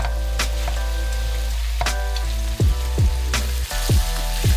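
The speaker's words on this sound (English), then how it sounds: "Stir fry all contents together for another 30 seconds" Bok choy stir-fried in a pan with salt gives a loud, steady sizzle, broken by sharp scrapes and clanks of the utensil against the pan as the contents are tossed together.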